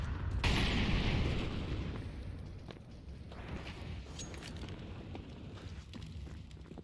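A grenade explodes in a video game, a loud boom right at the start rolling into a long rumbling tail with scattered crackles and pops.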